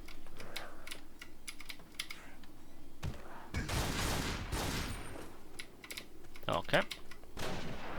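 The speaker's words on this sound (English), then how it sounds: "So that is the power of the shotguns in the hands of a residence." Shotgun blasts in the zombie survival game Darkest Days boom out in heavy bursts mid-stretch, mixed with rapid keyboard clatter throughout, and a brief spoken word near the end.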